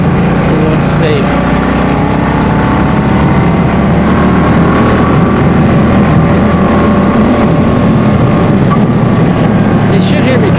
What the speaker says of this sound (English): They should hear me coming though. You know, I drilled some holes in the exhaust on this.